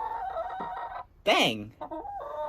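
Chickens in a winter coop after a heavy snowstorm cluck and squawk close by, with one loud rising squawk in the middle, under a man's brief spoken exclamation.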